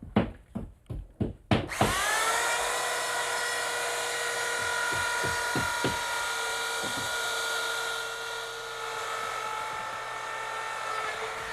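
A rotary tool spins up with a few quick pulses and then runs with a steady high whine as it cuts through a drywall sheet, close and sustained, with some faint knocks under it.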